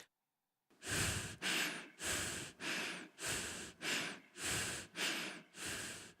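Fatigued breathing of a low-health video game character, eight heavy, evenly spaced breaths in a slow, regular rhythm, close and clear with nothing else heard.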